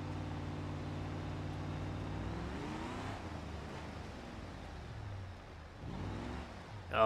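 A car in BeamNG Drive with a blown head gasket and a badly underpowered engine, lapping a parking lot: a steady, droning engine hum with rising and falling revs as it shifts, heard alone.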